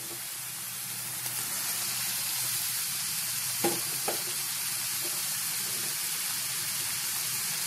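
Eggplant sizzles steadily in hot oil with spices, a constant frying hiss throughout with a couple of brief clicks of a utensil near the middle.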